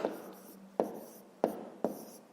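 A pen writes numbers on paper while a maths problem is worked through, giving four short, close scratchy strokes spaced unevenly over about two seconds, with no talk over them.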